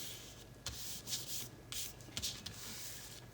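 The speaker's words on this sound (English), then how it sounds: "Just smooth it down." Fingers rub and smooth down a paper and lace junk journal pocket, quiet, close, uneven rubbing strokes with a few brief sharper scrapes, alone without talk.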